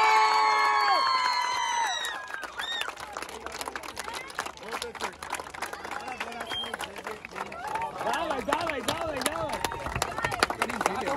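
Crowd at a youth football tournament awards ceremony cheers loudly, with whoops, shrill shouts and scattered applause forming a dense, continuous roar; high excited cries stand out early, then noisy shouting carries on throughout.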